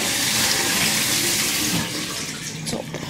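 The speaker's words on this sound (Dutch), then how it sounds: "Doortrekken die handel." A toilet flushes in a home bathroom, a loud steady rush of water that holds for a couple of seconds and then eases slightly as the cistern drains, with no voices.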